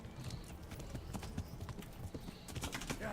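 Horse galloping in the video game Kingdom Come: Deliverance, a fast, continuous drumming of hooves, near and steady, with the game's outdoor ambience behind it.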